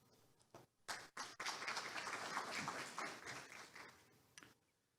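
An audience at a Honam regional investment briefing claps, starting with a few scattered claps that swell into steady, full applause before tapering off. The room is moderately distant and no one speaks.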